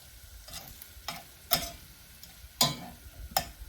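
Beef stroganoff is stirred in a hot pan. About five distinct scraping strokes of the utensil come at irregular intervals over a faint, low sizzle.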